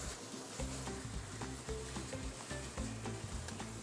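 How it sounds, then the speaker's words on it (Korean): Marinated food stir-frying in a pan, a steady crackling sizzle close up with repeated scraping and stirring knocks at an irregular rhythm. "볶이면서 물 끓여줍니다."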